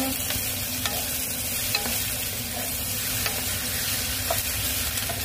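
White onion stir-frying in a pan gives a steady, even sizzle throughout, with faint scrapes of stirring now and then and no voices.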